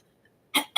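Two sharp coughs close to the mic, one right after the other, following near silence.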